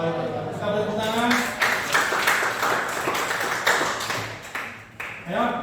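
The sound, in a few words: classroom applause for a group presentation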